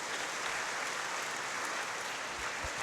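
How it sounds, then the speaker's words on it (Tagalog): A church congregation at Sunday Mass applauds the postulants, a dense, fairly faint wash of clapping that holds evenly throughout. "Palakpak po natin sila po."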